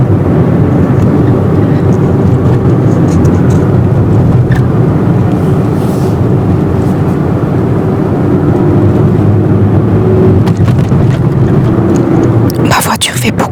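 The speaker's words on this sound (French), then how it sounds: "Ma voiture fait beaucoup de bruit de base. C'est une Toyota Aygo" A 2009 Toyota Aygo drives along with a loud, steady engine and road drone throughout, a bit of handling noise near the end.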